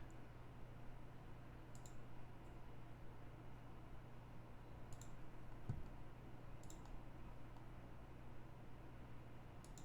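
Small, sharp computer mouse clicks land in scattered pairs and singles while someone works in Dungeon Painter Studio. They are faint and sit over a steady low electrical hum and hiss.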